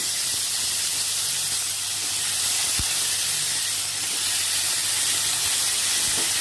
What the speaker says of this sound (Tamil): அந்த கத்திரிக்காய் எல்லாம் சேர்க்குறோம் சேர்த்து இது கொஞ்சம் நல்லா வதங்கணும்